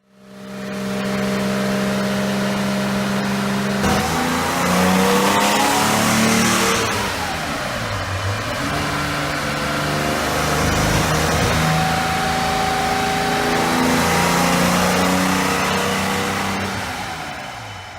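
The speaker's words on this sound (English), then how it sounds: "Nick optimizes performance on our dyno with a drivability tune, ensuring smooth power delivery throughout the entire rev range" A rebuilt Porsche 911 2.2L engine revving on a dyno, loud and close, its note climbing and falling through the rev range in sustained sweeps with no voices over it.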